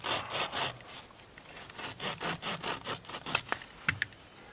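A wooden stick is sawn through outdoors while making a bushcraft pot hanger, a steady run of close rasping saw strokes that quickens and sharpens toward the end as the cut finishes, with no speech.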